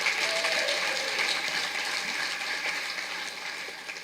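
An audience at a middle school National Junior Honors Society induction ceremony applauds in a dense, steady wash of clapping that gradually fades, with no clear cheering voices.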